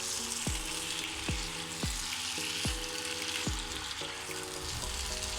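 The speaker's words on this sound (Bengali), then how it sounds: "কষানো হয়ে গেলে সে সেদ্ধ করে রাখা সবজিগুলো দিয়ে দিলাম" Boiled vegetables tossed into spiced masala over medium heat, a soft continuous sizzle broken by five or six regular scraping strokes of a spoon against the pan.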